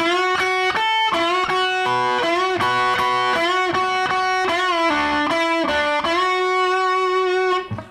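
A distorted electric guitar plays a quick riff of repeated notes, with several notes bent upward in pitch, ringing out loud and alone.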